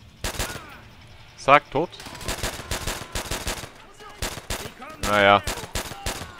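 M1A1 carbine fire in Call of Duty: World at War, a run of sharp rapid gunshots in irregular bursts with louder nearby blasts, while someone talks briefly between them.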